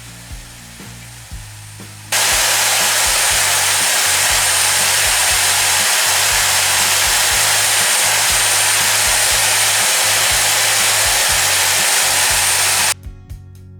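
A Bosch angle grinder switches on abruptly after a few soft handling clicks, then runs as a loud, steady high-pitched whir for about ten seconds before cutting off sharply.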